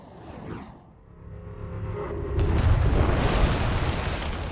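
A flashbang grenade goes off in a video game. A rising whoosh leads into a sudden loud burst, followed by a sustained roaring hiss and rumble that stays loud to the end.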